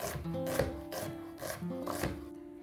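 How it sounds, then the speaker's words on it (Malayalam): A knife chops an onion finely on a cutting board for rajma masala, giving close, quiet, rhythmic taps roughly every half second. "അത് നമുക്ക് നല്ല ഫൈൻ ചോപ്പായിട്ട് അരിഞ്ഞെടുക്കണം."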